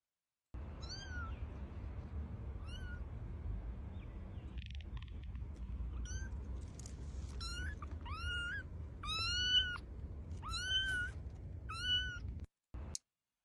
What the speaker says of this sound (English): I would take that kitty home with me, obviously.